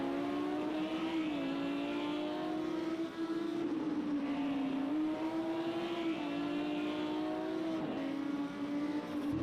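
Audi and Lamborghini GT3 race cars at Laguna Seca in Project Cars 2, a steady droning engine tone with slight pitch dips at gear changes, held continuously without speech.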